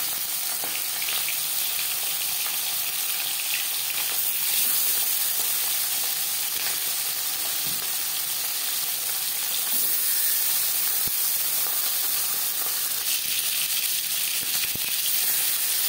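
Marinated fasha fish frying in four spoons of hot refined cooking oil, giving a continuous bright sizzle and crackle with occasional sharper pops, steady and close, with no voices.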